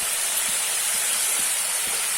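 Rohu fish oil hits spices frying in a pan for a cauliflower dish, giving a loud, unbroken close-up sizzle and hiss throughout.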